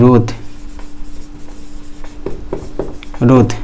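Pen or chalk writing during a physics lesson on resistance calculation, a soft continuous scratching and rubbing between bursts of a man's speech at the start and end.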